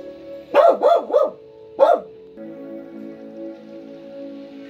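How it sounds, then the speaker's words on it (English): A dog barks at people walking along the sidewalk: a quick burst of three sharp barks, a pause, then one more, fairly close, followed by a low steady hum. "She's barking at people just walking."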